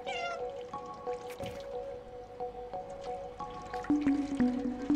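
A cat meows in the video game Stray, with several short meows over a soft, dripping game ambience; the calls are close and clear, and nobody talks.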